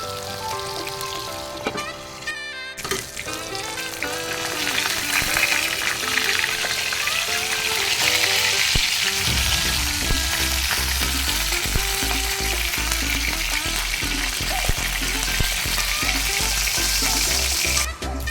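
Bangus (milkfish) frying in oil in a pan, a loud, continuous close-up sizzle and crackle with scattered pops and spatters throughout, alone with no talk.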